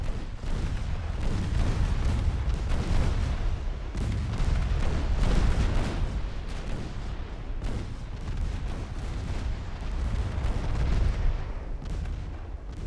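Rapid secondary-battery gunfire from 1904-era warships in a naval battle game, with loud overlapping booms and cracks in a dense, continuous barrage that rumbles for the whole stretch.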